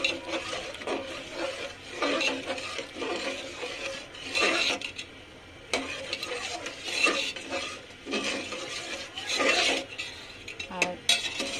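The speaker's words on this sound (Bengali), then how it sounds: "তো দেওয়া শেষ করে এখন নেড়ে দিব।" A spoon stirs jaggery payesh in a pot, producing repeated close scraping and swishing strokes in uneven bursts against the pot.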